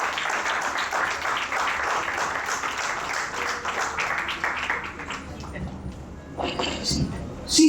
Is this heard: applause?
yes